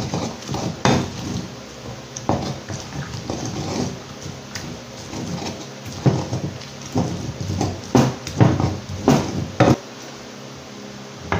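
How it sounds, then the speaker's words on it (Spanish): Stone molcajete grinding halved tomato and guajillo chiles, a repeated crunching, knocking rhythm of pestle strikes and scrapes, close and moderately loud with no talk. "a machucar los ingredientes en nuestro molcajete"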